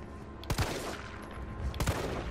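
Gunfire from the Resident Evil 3 Remake video game, two bursts of shots about a second apart over a muffled background of game ambience.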